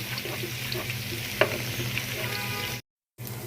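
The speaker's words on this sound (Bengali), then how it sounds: "পেঁয়াজটা হালকা করে ভেজেছি" Onions frying lightly in oil for pulao give a steady close sizzle with soft stirring scrapes for about three seconds, then a brief silent gap before the sizzle resumes.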